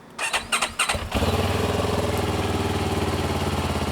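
A CFMoto 700 CL-X motorcycle with a 180-degree crank and stock exhaust: a brief whirring fuel-pump prime and a few cranking pulses, then the engine catches and settles into a loud, steady, pulsing idle close by.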